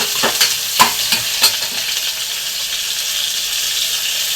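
Onions sizzle softly in a pan, with a few sharp scraping clicks of a spatula stirring early on, then a steady gentle frying hiss.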